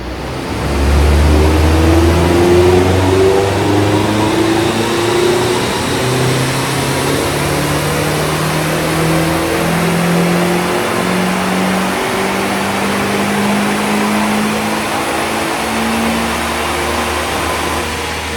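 A turbocharged Mazda MX5 engine runs loud and close, revving up and down repeatedly with rising and falling engine tones over a steady idle, without talk.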